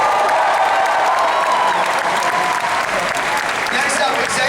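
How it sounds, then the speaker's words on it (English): Steady, dense applause from a large audience at a San Diego Comic-Con panel for a DC Entertainment show. It is loud and continuous throughout, with a few scattered cheers inside the clapping. "keep that applause going"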